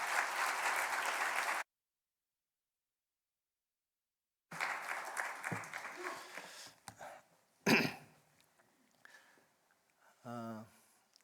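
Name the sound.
church congregation applause welcoming missionary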